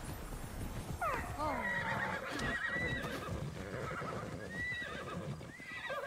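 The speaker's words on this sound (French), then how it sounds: "Oh, les chevaux!" Horses neigh and whinny in Immortals Fenyx Rising, several rising and falling calls over a busy bed of hoofbeats and game ambience, with faint talk mixed in.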